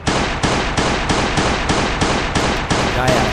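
Rapid automatic gunfire in a zombie shooter video game, a steady train of about nine loud, evenly spaced bursts with no gaps, close and dominant throughout.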